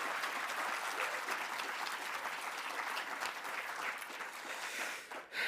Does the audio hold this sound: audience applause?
yes